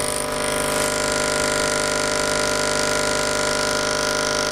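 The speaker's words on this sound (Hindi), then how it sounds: "यहाँ पर एक साउंड सिस्टम लगा हुआ है जो कि इतनी कर्कश आवाज़ के साथ वाइब्रेट कर रहा है" A sound system set up beside an aquarium vibrates with a harsh, steady electrical buzz, dense and unchanging, loud and close throughout without pause.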